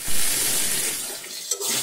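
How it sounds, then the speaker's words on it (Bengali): Warm water poured into a pan of frying jackfruit seeds in a home kitchen, a close steady splashing rush lasting a couple of seconds, with a brief hiss and spatter near the end. "এবার আমি একটু হালকা গরম জল আমি এর মধ্যে দিয়ে দেবো।"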